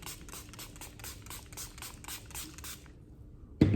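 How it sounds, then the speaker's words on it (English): Time Locker setting spray is misted onto a face in a quick run of soft, close hissing bursts, then a brief bump at the end. "I'm going to take this Time Locker spray,"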